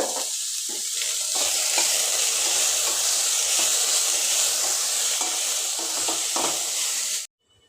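Vegetables stir-frying with salt in a pan for fried rice, a steady close sizzle with scraping stirs and soft clatters, ending abruptly, no talking.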